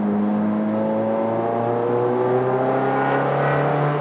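A Toyota MR2 engine revs on a racetrack, rising harmonic tones climbing steadily over about four seconds, close and continuous with no voices.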